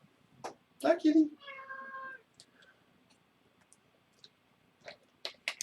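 A pet cat named Dutch gives a couple of short, close meows, one drawn out with a tonal wail, then a few faint clicks and taps follow in a quiet room.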